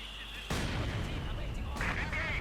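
Artillery and gunfire in the real-time strategy game Company of Heroes 2 as German forces fire on a position: a sudden heavy blast followed by a dense rumble of impacts and shots.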